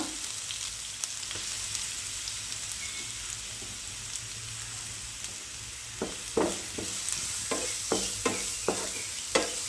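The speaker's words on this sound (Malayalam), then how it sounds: "ഇത് നന്നായി 1 മിനിറ്റ് ഇളക്കി ഒന്ന് വഴറ്റിയെടുക്കുക." Crushed coconut sizzling in hot oil with mustard seeds, stirred in a pan for a Kerala kovakka thoran; a steady close fry hiss carries sharp scraping stirs that cluster and grow louder toward the end, with no talk.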